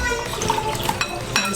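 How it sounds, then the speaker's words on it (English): Water pouring into a bowl in a home kitchen while making a Japanese somen and soba noodle salad, a continuous splashing trickle with light clinks of dishes and someone talking over it. "Now we're gonna put some water."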